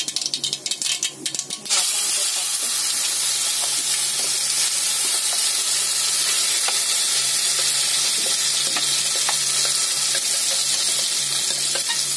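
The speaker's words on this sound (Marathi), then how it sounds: "राई छान तडतडली आपली." Hot oil sizzles steadily with a loud, continuous hiss, scattered with sharp crackles and pops of mustard seeds; a clatter opens it.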